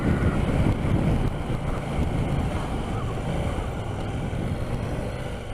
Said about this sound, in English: Whoa, it is windy here today.